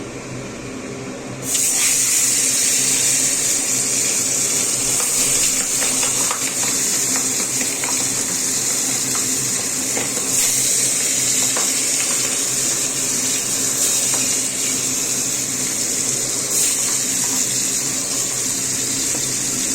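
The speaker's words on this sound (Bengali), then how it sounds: "তো প্রথমে মাছটাকে ভাজতে দিয়ে দিচ্ছি।" Rui fish fries in oil in a kadai, a loud, continuous close-up sizzle and spatter like running water, starting abruptly after a short quiet lead-in and holding steady with occasional crackling bursts.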